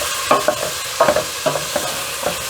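Chicken and rice pasta (kritharaki) being stirred in a pot: a series of distinct scraping, clattering strokes in an uneven rhythm, close and fairly loud, with no talking.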